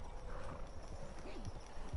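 Hooves of a Mustang clip-clop in a PS4 video game, quiet and steady under a low background hum, with a couple of soft thuds.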